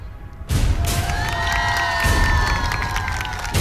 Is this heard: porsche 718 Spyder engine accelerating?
no